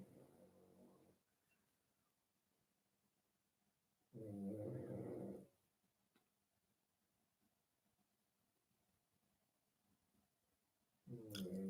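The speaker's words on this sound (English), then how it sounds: "Billy is snoring." Someone snores in a quiet room: three loud, rough, rasping breaths several seconds apart, with near silence between them.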